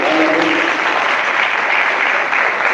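A church congregation clapping during a Hindi sermon, a dense, sustained burst of applause from many hands, loud and close, with a brief voice at the start.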